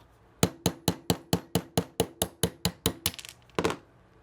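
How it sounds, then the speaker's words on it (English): A 1/8 inch punch tapping a roll pin out of a Smith & Wesson Shield pistol frame: about a dozen sharp metallic hammer taps in a steady quick rhythm, then a short pause and one final tap, close and clear. "Take your 1/8 inch punch, and we're going to tap them right out."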